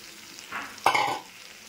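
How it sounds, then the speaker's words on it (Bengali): Gobindobhog rice tipped into a pan of hot oil and spice paste, giving a sudden bright sizzle and a stirring scrape that fade over about a second, with no talk. "এইবারে দিয়ে দেবো আমি এই দেখো চালটা, গোবিন্দ চালটা, যেটা আমি ধুয়ে পরিষ্কার করে নিয়েছিলাম"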